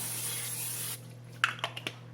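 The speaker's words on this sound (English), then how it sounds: "we're going to spray with a little bit of our pan spray. This is butter flavored." A pan-spray can hisses butter-flavored cooking spray over chicken wings before air frying, first one long close spray, then a few short sharp bursts.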